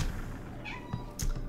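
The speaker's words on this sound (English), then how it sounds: "I can hear a cat." A cat meows a couple of times near an open back door, short plaintive calls over a steady low background hum, with no talking.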